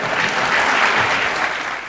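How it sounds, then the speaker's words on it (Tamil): Audience applause in a Tamil-language televised courtroom-style interview show, a dense steady clapping from a studio crowd that holds at even loudness throughout with no talk over it. "அதனாலதான் மக்கள் கைத்தட்டுறாங்க"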